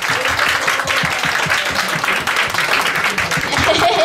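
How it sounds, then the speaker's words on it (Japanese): Enthusiastic applause and clapping from an idol-event audience at Sha☆in Smile Hall in Okayama after an acoustic guitar performance, continuous and close, with a voice speaking over it at times. "素敵な信玄さんに拍手を。"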